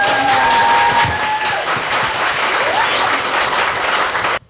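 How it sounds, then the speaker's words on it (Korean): Sustained, dense applause from an audience at a memorial ceremony at Seoul National University of Education, loud and steady for several seconds before cutting off abruptly, with faint tonal sounds briefly audible early on. "우리 저기 계신 교무처장님 감사하다고 박수 부탁드리겠습니다."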